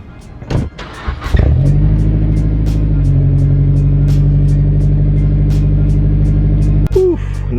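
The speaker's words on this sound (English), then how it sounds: "Nothing better than a nice cold start in the mornings to kick off a video." A 2008 Mazdaspeed3 engine cold-starts: a brief starter crank, a loud catch and rev flare, then a steady high idle that settles slightly, close and loud, with a short voice near the end.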